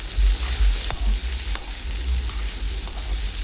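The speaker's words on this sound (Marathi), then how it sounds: "जोपर्यंत भाजी चांगली आपली शिजत नाही तोपर्यंत आपण शिजवायची आहे। मधून असे हलवत राहायची भाजीला।" Okra bhaji fries with a loud, steady sizzle in a pan, broken by a few sharp scrapes and clinks of a spatula as it is stirred, close up and with no talking.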